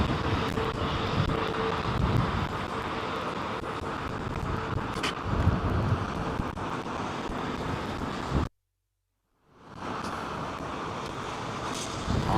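An aircraft engine roaring with thrust at London Heathrow Airport, a broad, steady, distant rumble with wind noise, interrupted by a short gap of silence.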